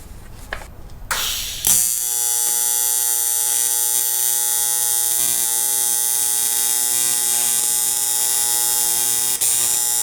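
Steady electric welding buzz, loud and continuous, as tacks go onto a semi truck fuel tank being fitted to an International LoadStar; the buzz starts after a brief rough crackle and holds nearly unbroken to the end.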